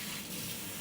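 Tap water runs steadily into a kitchen sink for rinsing pork meat while cooking sinigang na baboy, a continuous close splashing flow with no talk.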